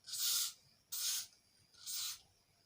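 Three short hissing bursts of aerosol hairspray sprayed onto a wig, evenly spaced, close up in a quiet room.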